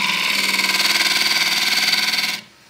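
A wood lathe spins a bowl blank at 850 RPM with a steady, close humming whine and a faint rhythmic pulse, then cuts off abruptly near the end.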